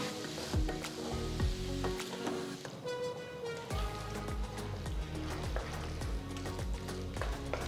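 Chopped tomatoes, slit green chilies and ginger garlic paste sizzling in a pan for chicken salna, a busy crackling fry with frequent rhythmic spatula scrapes and taps throughout, fairly close.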